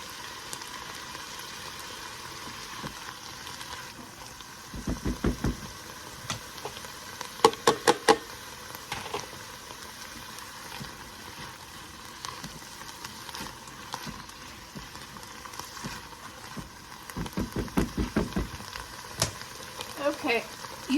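Onions and carrots sizzling in a soup pot, a low steady frying hiss with occasional clusters of crackles and stirring clatter, fairly quiet.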